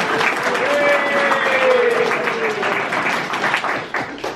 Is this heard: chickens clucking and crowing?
no